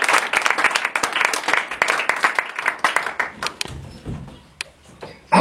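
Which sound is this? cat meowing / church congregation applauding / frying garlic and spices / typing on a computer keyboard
church congregation applauding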